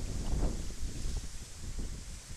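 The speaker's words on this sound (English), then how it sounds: "it's very windy, the rain's coming down pretty quick" Steady wind buffeting a microphone during a cold, rainy storm on an exposed ascent, a low rumbling roar with gusty surges that rises and falls throughout.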